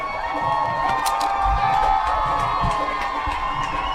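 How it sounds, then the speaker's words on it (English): A crowd at a high school football game with the Booneville Bearcats cheers and shouts continuously, a dense steady roar with whoops and children's yells rising above it. "Oh, the crowd's getting antsy."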